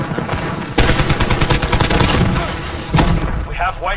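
Gunfire in the shooter Modern Warfare 2019, with sharp loud bursts and a dense run of shots that give way to another burst near the end, heard under a voice talking.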